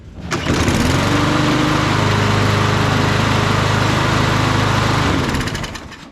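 A walk-behind lawn mower engine, just repaired after a spark plug fuel-air problem, fires up and runs at a loud, steady roar close by for several seconds before cutting out.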